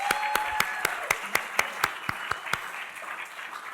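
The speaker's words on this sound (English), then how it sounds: "Give them a round of applause." Sparse applause from a small lecture audience at a museum talk: a dozen or so distinct hand claps, spaced out and fairly close, thinning out toward the end over a soft room murmur.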